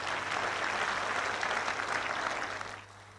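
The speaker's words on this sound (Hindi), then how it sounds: "मैं एक बार फिर जोरदार तालियां चाहूंगा डॉक्टर शमशाद साहब के लिए" An audience at an event gives sustained applause, a dense, even roar of clapping heard from a distance that tapers off slightly at the end, with a low steady hum underneath.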